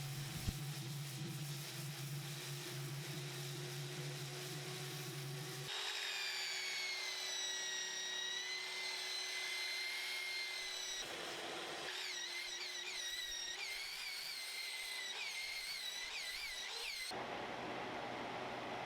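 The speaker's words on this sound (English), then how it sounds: "I am now going through the same sanding and texturing protocol that I did on the underside and legs." Power sanding and texturing on the top of a modern rustic wooden coffee table, a steady abrasive whir with shifting pitch and rubbing grind, continuous and close, changing character in several sections.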